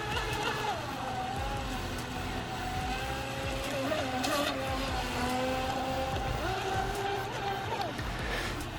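An Atomik Barbwire 2 brushless RC boat running near full throttle, its steady high-pitched motor whine rising and falling continuously for several seconds over constant water and outdoor background noise.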